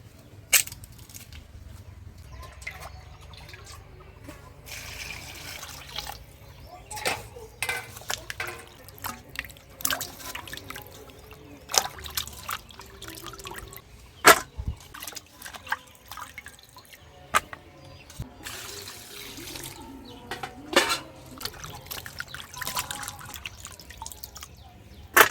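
Water drips and trickles intermittently while chopped chicken feet are washed, with scattered splashes and light knocks against a container that come and go over a long stretch.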